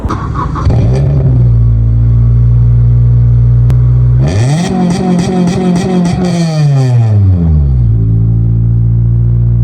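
An Acura RSX idles with a deep exhaust rumble, then revs up loudly, holds a high roaring pitch with rapid blips, and drops back to idle.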